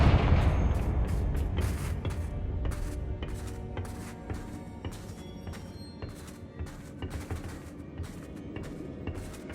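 Repeated sharp blasts and booming impacts from the Confringo blasting curse in Hogwarts Legacy, a series of loud percussive bursts over a dense, rumbling game soundscape with no talk.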